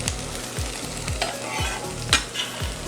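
Vegetables sizzle in a hot, lightly oiled pan while being stirred, giving a steady frying hiss punctuated by regular scraping strokes of the utensil, close and clear with no talking.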